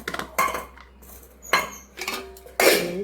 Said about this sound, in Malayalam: ഇതൊക്കെ എടുത്ത് കളയണം പാത്രങ്ങളൊക്കെ കഴുകി വെക്കണം